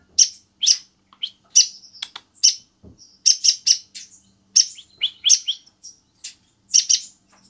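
Konin sunbird (kolibri ninja) kept as a caged songbird, singing a lively run of sharp, high chirps and short trills in quick bursts, close and clear against a quiet background.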